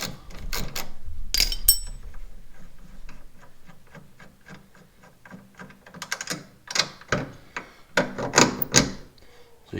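A 15 mm wrench undoing a suspension bolt on a Polaris Indy VR1 snowmobile, rapid clicking ratchet strokes in short runs, then sharper metallic clanks of the tool and bolt near the end, close and fairly loud.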